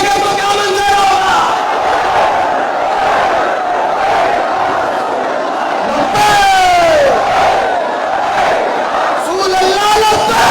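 A large crowd at a religious gathering shouts slogans loudly in unison, a sustained roar of many voices rising in waves, with a lead voice calling out over the mass of chanting.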